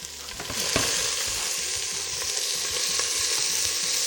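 Marinated chicken pieces fry in hot oil, with lemongrass and red onion, giving a loud, steady sizzle with crackling spits and pops throughout, alone and up close.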